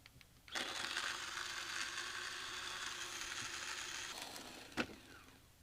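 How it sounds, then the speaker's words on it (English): An OutIn Fino portable electric coffee grinder grinds beans in a steady whirring burr drone that starts after a faint click, runs for about four seconds, then stops with a sharp click. "it stops when it's finished grinding"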